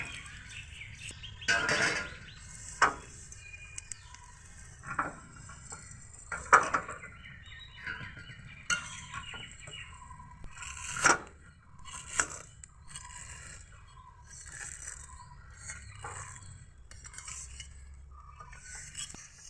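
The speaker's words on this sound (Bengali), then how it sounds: "সেমাইগুলোকে কিন্তু আমি হাত দিয়ে ভেঙে ছোট করে নিচ্ছি" Semai vermicelli being broken by hand into smaller pieces, giving irregular dry snaps and crackles with brittle scraping rustles, close and fairly quiet, spread across a long stretch with pauses between bursts.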